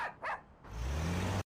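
A dog barks close by: two short yips, then a longer rough, rumbling bark-growl that ends abruptly, with no talk over it.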